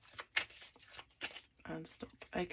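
Tarot cards being shuffled close by in short papery bursts and riffles, quiet and intermittent, with a voice speaking between them.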